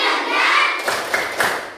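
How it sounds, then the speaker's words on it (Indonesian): Children in a group clap a short rhythmic spirit clap, giving three distinct claps after a burst of noisy chatter. "ayo tepuk semangat"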